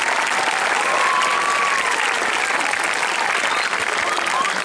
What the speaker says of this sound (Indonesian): Tepuk tangan buat Ibu Kepala Sekolah.